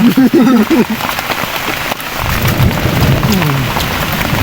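A heavy rainstorm in a deep forest, with steady loud rain hiss and rumbling thunder throughout, plus a voice briefly audible near the start and again partway through.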